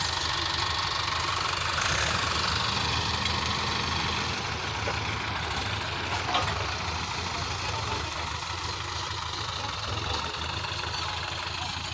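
Heavy engines of four tractors, three pushing from behind and one reversing from the front, rumble and knock continuously at close range to free a stuck sugarcane trolley, a loud steady drone with slight shifts in load.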